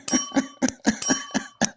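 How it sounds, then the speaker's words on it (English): A bright bell rings in quick repeated strikes, about seven sharp chimes in a row, close and loud. "how about the doorbell action here, Val?"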